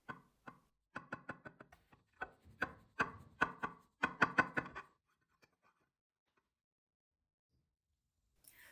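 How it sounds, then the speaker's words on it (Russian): A knife slices through a fluffy, soft sponge cake, giving a run of quiet, crisp scraping and tapping strokes in quick bursts, close and faint, that stop after about five seconds and leave near silence. "А теперь самое интересное. Разрезаем и смотрим, какой он получился внутри."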